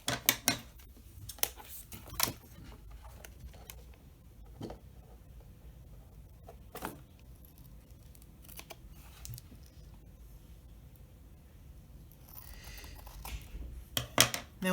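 Scissors snipping excess material off a handmade notebook cover, a scattering of sharp, close clicks and cuts in bursts at the start and end with quieter handling between.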